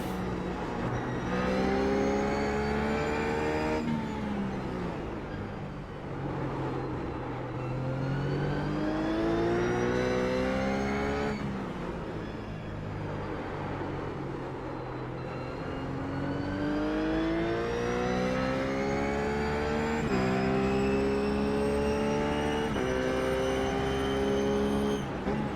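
A RUF race car lapping Zandvoort in the iRacing sim: the engine climbs loudly through the gears again and again, pitch rising and dropping with each shift and dipping where the car slows for corners, with no talking.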